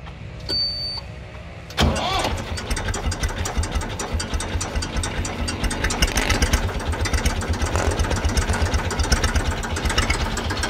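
A modified Massey 35 tractor engine cranks and catches after a short quiet start, then settles into a loud, steady, rapid chugging idle close by with a pronounced beat.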